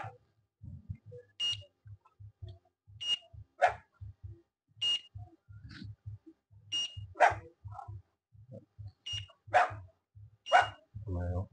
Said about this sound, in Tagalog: Galit na yung aso.